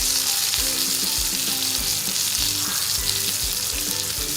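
Surmai fish pieces frying crisp in a pan, a loud, dense, continuous sizzle heard up close with faint low knocks beneath.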